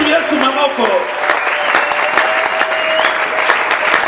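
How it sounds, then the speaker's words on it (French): A church congregation claps steadily in praise of Jesus during a French-language sermon on the Ten Commandments, dense continuous applause with a few voices mixed in. "Acclamez encore pour Jésus."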